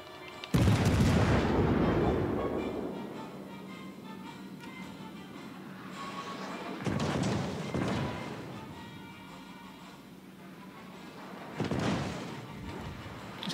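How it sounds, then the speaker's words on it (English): Heavy naval gunfire in World of Warships: Legends, a Yamato battleship firing HE shells: three loud booming salvos a few seconds apart, each with a rumbling tail, over a steady low game background. "Is that a Yamato firing HE?"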